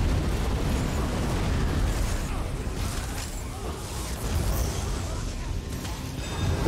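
Bomb explosions in a World of Warcraft raid, heavy rumbling blasts and crashing bursts forming a dense, loud wash of low-end booms throughout, with game effects layered in.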